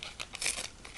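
Material torn off by hand while making a name sign, a quick series of short close rips over about a second, the middle one loudest.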